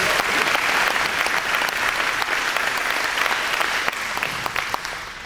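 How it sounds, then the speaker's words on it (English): Sustained applause from an audience of employees at a parks and recreation presentation, loud and steady throughout with dense overlapping claps and no talking, tapering slightly near the end. "Let's give that a round of applause."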